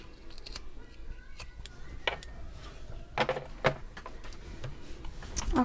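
Scissors snip through the end of a zipped zipper while sewing a bag, a few sharp close clicks and cuts scattered over quiet rustling.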